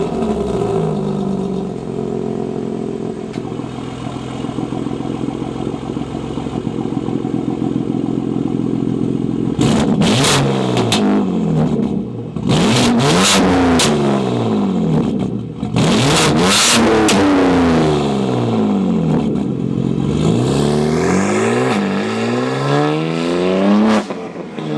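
A BMW G82 M4 engine accelerating hard while driving, loud revs rising and falling through repeated gear changes with sharp upshift pops and crackles, close and continuous with no talk.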